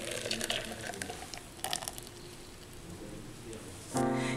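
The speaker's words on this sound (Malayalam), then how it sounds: "ഇനി ഈ ജ്യൂസ് നമുക്ക് വീണ്ടും ആ മിക്സിക്കകത്തോട്ട് തന്നെ ഒഴിക്കാം." Grape juice is poured back into a kitchen mixer jar while making a grape milkshake, giving a soft splashing, trickling pour that fades, then a brief louder humming sound near the end.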